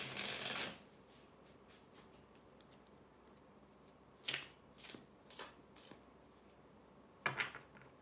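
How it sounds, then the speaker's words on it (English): Tarot cards being shuffled for a love reading: a loud riffling burst at the start, then softer scattered card slaps and brushes, with a final crisp shuffle near the end in a quiet room. "So let's get some more cards out here"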